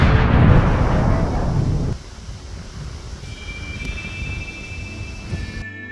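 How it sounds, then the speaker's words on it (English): Bomb rock blast in a Pikmin game: a loud, roaring explosion bursts at the start and decays over about two seconds into a low rumble, with softer game sounds afterward. "as you could have guessed, they explode."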